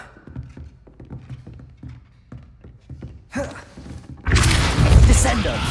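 Depulso spell impacts in the Hogwarts Legacy video game: soft thuds and taps build to a heavy booming blast near the end, loud and close, with a voice briefly audible underneath.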